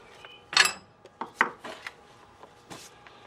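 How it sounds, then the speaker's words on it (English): A few scattered metallic clicks and scrapes as pliers push the shock absorber rod back through the upper strut mount of an Audi TT Mk1, faint and close. "I'm going to use some pliers to push it back through"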